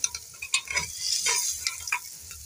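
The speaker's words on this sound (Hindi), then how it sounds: "तो अब इस तड़के को ये चला लेगा और पका लेगा।" Turmeric tadka sizzling and frying in a pan as it is stirred, with close, irregular scraping strokes over a soft, steady crackle.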